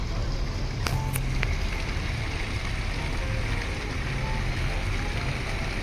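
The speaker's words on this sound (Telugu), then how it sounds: "వాటర్ ట్యాక్సీ చూడండి, బ్రహ్మాండంగా ఉంది." Water taxi boat on the water in Gewan City, Qatar, its steady engine rumble and broad wash of water noise running continuously up close, with a couple of brief sharp clicks near the start.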